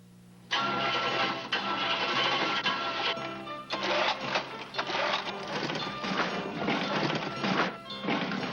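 An engine cranks and catches in a Champion spark plug commercial from a 1979 NHL broadcast, a loud continuous run of rapid rhythmic cranking bursts lasting several seconds with no talk.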